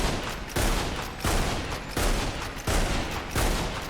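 Crestfall gun in the Roblox game Grave/Digger firing in steady, evenly spaced bursts of loud gunshots, about one every 0.7 seconds, with no talk.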